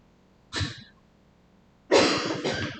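People coughing and sneezing in a quiet room during a mindfulness meditation session, two separate bursts: one short, then a longer, louder one with a double explosive release, close and alone against near silence.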